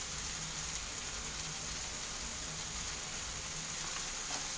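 Onion, tomato, red chilli and turmeric fry in a pan for poha, giving a steady, even sizzle and hiss close by, with no pauses and no talking.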